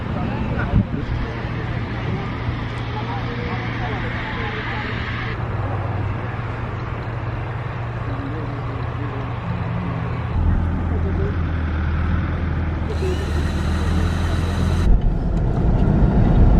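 A car drives out toward the freeway, its engine and road noise forming a steady, loud rumble with a low tonal drone and occasional louder passes from traffic.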